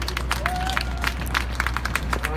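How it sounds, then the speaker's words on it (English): An audience at a live cattle handling demonstration claps steadily, a dense patter of applause continuing through the whole short moment. "Can we have a round of applause for Dr. Ron Gill?"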